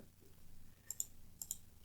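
A computer mouse clicks quietly in two quick pairs, crisp and close, against a near-silent background.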